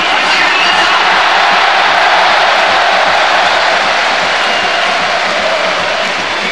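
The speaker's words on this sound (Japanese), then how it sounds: "この大歓声に川野さんなんかゾクゾクってしますね" A packed stadium crowd roars and cheers after Masahiro Fukuda's goal in an Urawa Reds retirement match, with a dense, loud, sustained wall of noise throughout.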